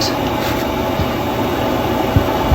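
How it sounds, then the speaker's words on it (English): A Pentair MasterTemp 250 pool heater's blower runs with a steady, close, whooshing motor hum and airflow roar, unbroken and fairly loud. "Blower's running,"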